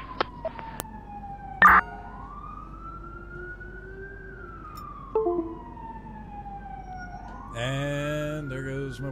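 An ambulance siren sweeps up and down in the GTA V game with the LSPDFR police mod, wailing in long slow rises and falls, then breaking into short yelps and a harsher tone near the end.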